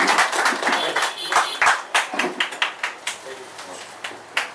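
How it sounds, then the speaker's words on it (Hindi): Applause from an audience at a stage event honouring a guest, with brisk, uneven claps close and fairly loud, thinning toward the end. "जोरदार तालियों के साथ।"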